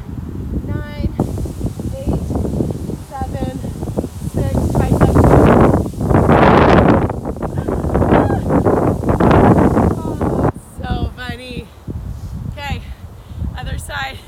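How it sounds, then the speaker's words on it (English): Strong outdoor wind buffets and rumbles in gusts against the microphone during a mini band workout, loud and broad beneath a woman giving exercise instructions. "I'm dying at this wind"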